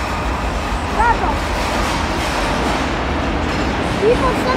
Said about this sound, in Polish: I mamy wjazd pociągu Intercity Szyldzienia.